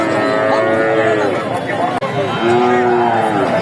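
Cattle at the traditional Dhap cattle market in Bogura give long, loud moos, one after another close by, over the busy murmur of a market crowd.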